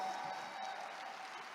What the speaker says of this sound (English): Can we give Reway a round of applause today?